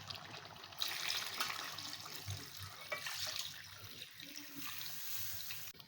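Water is poured from a tap or jug into a pot of cooking beef paya, a steady faint splashing stream lasting several seconds, with no one speaking.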